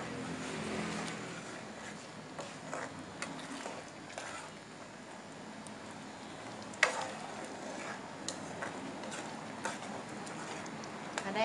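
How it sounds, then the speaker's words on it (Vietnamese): A pot of sugar syrup with ginger and pandan leaves simmers toward a boil, giving a soft, steady bubbling and hiss with occasional clinks and stirring sounds, fairly faint throughout. "em bây giờ em nấu cho nó sôi lên là em tắt lửa là xong rồi đó"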